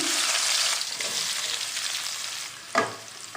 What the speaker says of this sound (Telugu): ఉల్లిపాయ ఇందులో వేసుకొని ఫ్రై చేసుకున్నామండి